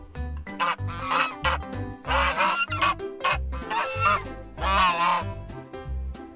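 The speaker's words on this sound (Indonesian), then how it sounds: "Wah, ada angsa, teman-teman." A goose honks in a rapid series of harsh, nasal calls, loud and near, mixed with a pulsing musical backing.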